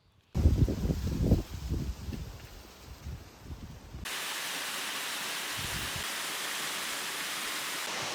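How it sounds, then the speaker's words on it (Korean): Steady broadband rush of a mountain waterfall and stream in Bukhansan during the rainy season, loud and continuous through the second half after a stretch of rustling and low thumps. "오늘 이 폭포와 계곡으로 아쉬움을 달래도록 하겠습니다"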